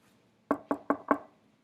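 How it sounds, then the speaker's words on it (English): Four quick, evenly spaced knocks on a door, crisp and fairly close, standing alone against near silence. "Somebody knocked."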